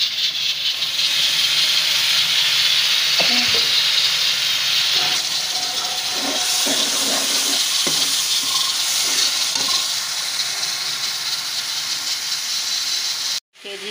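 A spice paste of tomato, green chili and ginger, with salt and red chili, sizzles and hisses steadily in a pan, with occasional stirring clatter and a brief drop near the end.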